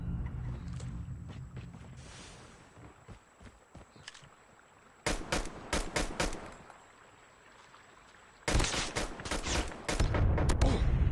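Bursts of rapid pistol fire in a shooter video game, several clustered volleys of sharp shots separated by quieter gaps, loud and close.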